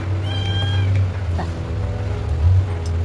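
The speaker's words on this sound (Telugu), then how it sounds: "పిల్లి వచ్చింది చూడండి" A cat meows nearby, one drawn-out cry early on, over a constant low engine-like hum.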